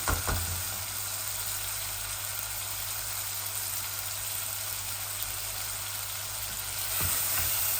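Small fish in a sour tomato gravy sizzle and fry steadily in a pan, a continuous close hiss with a faint low hum underneath and a couple of soft stirring knocks.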